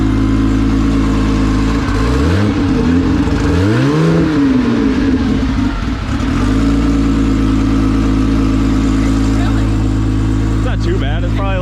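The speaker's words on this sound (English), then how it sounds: "Car sounds good though." A car engine hums steadily at idle and swells through a couple of revs before settling, loud and close, in cold weather, while people talk over it.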